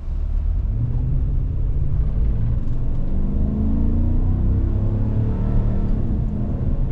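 A 2019 RAM pickup with a Hemi V8 accelerates under throttle, giving off a loud, continuous low engine rumble heard from inside the cab as the pitch slowly climbs. No one speaks.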